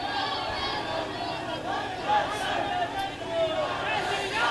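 Large crowd gathered at Assi Ghat in Varanasi ahead of a road show, a continuous murmur of many voices and chatter with occasional louder shouts rising from the distant hubbub.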